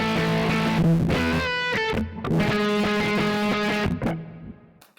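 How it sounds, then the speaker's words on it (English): A thick, fuzzy distorted electric guitar through a Kemper profiling amplifier plays several sustained notes and bends, loud and buzzing, before the sound fades out at the end. "The fuzz itself, which gives you the main bulk of the tone here."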